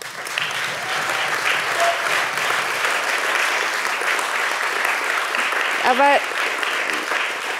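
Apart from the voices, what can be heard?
audience applause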